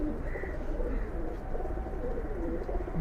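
Several pigeons coo in soft, rolling murmurs against a steady low background hum, close by and continuous, with no talking.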